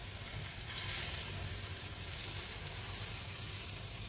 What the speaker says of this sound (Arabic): اسمعوا صوت الطشه الحلوه دي.